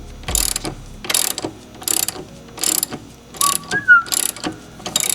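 A hand ratchet cranks down a part during an Air Lift Performance suspension install on a Dodge or Chrysler, about eight rapid clicking bursts in a regular rhythm, close and crisp, with a brief faint squeak partway through.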